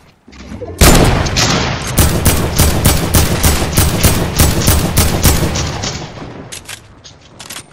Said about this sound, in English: Watch out, they're sniping.